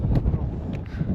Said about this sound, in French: j'espère que vous entendrez bien parce que le vent souffle